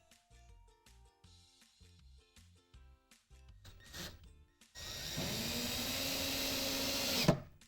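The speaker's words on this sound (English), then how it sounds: "And finally, drive your last 2 screws in" A power drill drives the last screws into a wooden coffee table: several short stuttering bursts, then one long, loud, close whirring run that stops abruptly.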